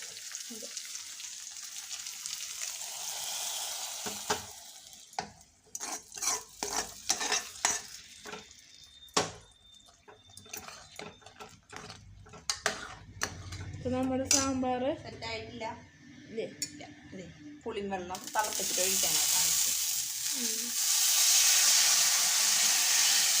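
Vegetables for sambar sizzle and fry in a pan, with a steady hiss under scraping stir strokes. A person talks over the middle stretch, and a loud sizzle fills the end.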